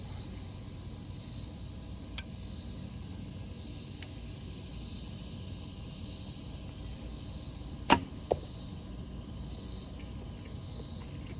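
A Bear Super Grizzly bow releases a 500-grain Gold Tip Hunter arrow in one sharp twang and thump near the end, followed by a second smaller knock, against a quiet outdoor background with steady faint hiss and no talking.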